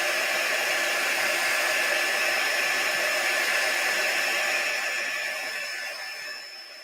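Hair dryer blowing steadily on a craft cup to dry paste, a loud continuous close-up whoosh with a constant whine that tapers off and fades toward the end, no voices.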